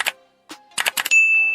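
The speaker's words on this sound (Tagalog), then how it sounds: "don't forget to press the notification bell" A bright notification bell dings over a short string of clicks and soft taps, ending in a clear sustained ring that lingers for the final half second.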